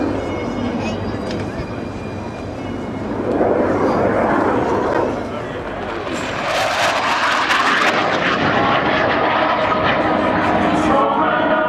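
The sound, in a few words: Team Viper jet aircraft flying past at Waddington air display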